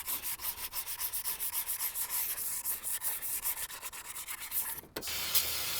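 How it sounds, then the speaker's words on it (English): Sandpaper rubs rhythmically inside the brake drum of a 1960 Chevrolet El Camino, clearing out gooey residue. The quick back-and-forth strokes are close and fairly loud, then the sanding stops briefly and resumes as a steadier scrub. "So we're gonna sand this out real quick"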